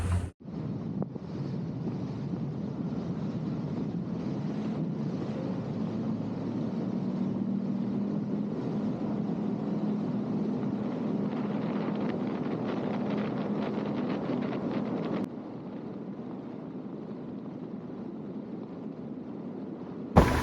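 Boat motor running steadily at about 31 mph into the wind after a 100-hour service with new spark plugs, a constant low drone mixed with heavy wind buffeting and water rush that drops slightly in level near the end.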